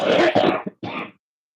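A single harsh cough followed by a shorter second cough, close and loud, then silence.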